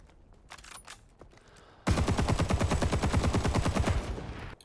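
Rapid automatic fire from a machine gun in the video game Rising Storm 2, a loud sustained burst of evenly spaced shots lasting almost three seconds after a quieter lead-in.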